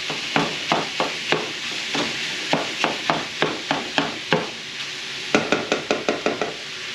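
Repeated sharp scraping chops of a utensil breaking up ground beef in a pan, a steady rhythm of strikes over a soft sizzle, pausing briefly before resuming.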